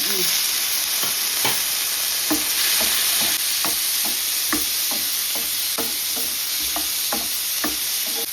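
Tomato sautéing in a pan for chicken curry, a loud steady sizzle punctuated by regular taps and scrapes of a spoon stirring, close up with no talk.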